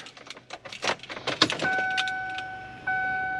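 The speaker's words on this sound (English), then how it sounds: "I just heard the fuel pump prime" Fuel pump priming in a GMC Denali truck with a BTR Stage 2 cam, a steady electric whine that starts partway through after some clicks and rustling, holding a constant tone nearby.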